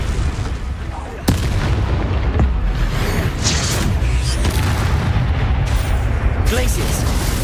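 Booming spell blasts and explosions from the Hogwarts Legacy video game, a loud run of repeated heavy bursts with sharp cracks near 1.3 and 2.4 seconds over dense rumbling game noise, mixed with a speaking voice.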